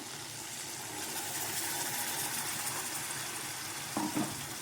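A steady sizzle of masala paste frying in a hot pan, with brief scraping stir sounds near the end.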